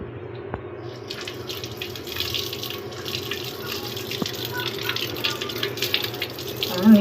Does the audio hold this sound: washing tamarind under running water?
yes